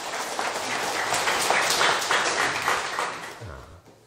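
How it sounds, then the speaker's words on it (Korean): Audience applause fills a lecture hall with dense, steady clapping from many hands, loud and unbroken for several seconds before tapering off at the end. "박수 한번 치세요"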